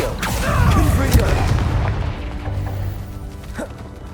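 Blasting spell explosion from the video game Hogwarts Legacy, a booming crash that hits at the start and decays into rumbling debris and scattered clatter, followed by a smaller thump near the end.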